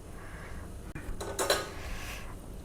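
A lid set onto a cooking pot of dal and taro-leaf curry: a brief metallic clatter and clink of metal on metal, then a short ringing settle, heard up close with no talking.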